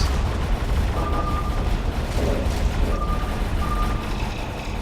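Missiles fire and explode during a Starsector space battle, with continuous rumbling detonations and booms and a few brief tonal beeps over dense, loud game noise.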